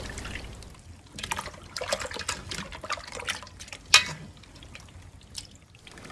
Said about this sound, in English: លាងផ្សិតក្នុងទឹកត្រជាក់3ដងដើម្បីយកដីចេញ